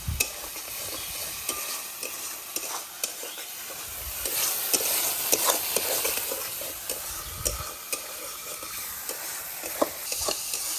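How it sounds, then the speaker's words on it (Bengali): Spice paste sizzles steadily in a hot wok while a spatula scrapes and stirs in repeated clacks, close and continuous, with no voices; a vegetarian potato, pointed gourd and paneer curry. "আমার এখানে মশলাটা কিন্তু বেশ ভালোভাবে ভাজা হয়ে গেছে"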